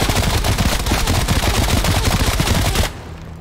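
Gunfire in Call of Duty: Black Ops Cold War: a loud, rapid, sustained burst of shots that cuts off abruptly near the end, leaving a low residual hum.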